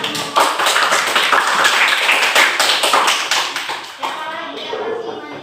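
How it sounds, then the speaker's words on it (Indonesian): A class of children claps in a Islamic religious education lesson, brisk crisp handclaps in a dense run that fades slightly toward the end, with young voices faintly mixed in. "Tepuk tangan untuk kamu."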